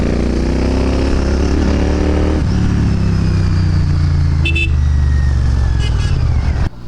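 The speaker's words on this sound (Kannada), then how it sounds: "ನಮ್ಮದಿರೋ ಬೈಕ್ ಇದು ರಾಯಲ್ ಎನ್ಫೀಲ್ಡ್ ಹಿಮಾಲಯನ್ 450." Royal Enfield Himalayan 450, a 450cc liquid-cooled touring motorcycle, riding through town traffic with a steady loud engine drone and wind rush, plus brief horn-like tones from nearby vehicles.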